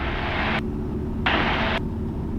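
Steady, loud drone of a Cessna Skyhawk's engine at full takeoff power fills the cabin, a constant rumble with two bursts of hissing broadband noise layered on top.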